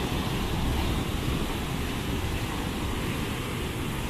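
Water falls and flows through a rock gorge, a loud, dense, unbroken roar filling the whole span with no voices over it.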